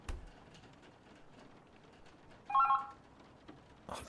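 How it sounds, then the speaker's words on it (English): An indoor telephone gives one short electronic ring burst, clear and fairly close, rising out of a quiet room before falling silent again. "Oh, the phone."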